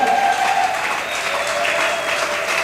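A church congregation applauds and acclaims God during a worship gathering, the clapping dense and steady for the whole stretch, with faint sustained tones woven through it.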